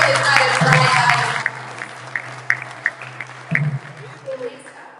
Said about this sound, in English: Bhakti Manjari deserves another round of applause.